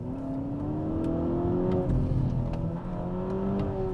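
A 2024 MG7 car accelerating briskly, a steady rising engine and drivetrain whine heard from inside the cabin, moderately loud with no talking.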